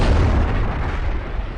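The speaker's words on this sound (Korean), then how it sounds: "강력한 폭발과 함께" A deep, rumbling explosion effect marks helium fusion igniting in the sun, a heavy, dense boom that starts loud and slowly tails off over about a second and a half, with no speech over it.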